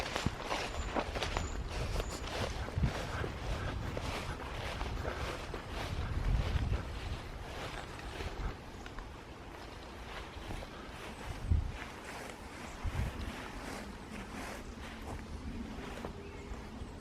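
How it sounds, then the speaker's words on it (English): Wind blows outdoors among trees, a low rumbling buffeting with gusts and occasional thumps, fairly faint and uneven throughout. "Well, that's the wind, isn't it?"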